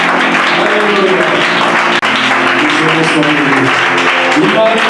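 Church congregation applauding and cheering for the Lord, loud sustained clapping and crowd voices mixed with shouts and talk close by.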